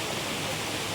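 Rushing water from Bokad waterfall near Vajreshwari roars as a dense, steady broadband wash, close and unbroken, with no speech over it.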